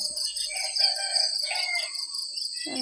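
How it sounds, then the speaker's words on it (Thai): Chickens call out from a short distance over a constant buzzing insect chorus, with a louder squawk at the very end. "มีเสียงตัวไก่ห้องด้วยนะ"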